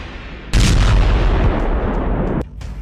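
A US airstrike on Houthi positions in Yemen sets off a heavy, loud bombing blast that booms and rumbles on for about two seconds before it cuts off sharply.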